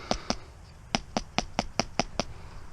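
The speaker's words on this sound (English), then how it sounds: "What I do is I just knock it off on my shoe" Eight sharp knocks of a wet paintbrush against a shoe: two close together, a pause, then six in a quick, steady run, up close with no talking.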